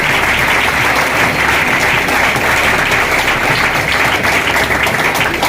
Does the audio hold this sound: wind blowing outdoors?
no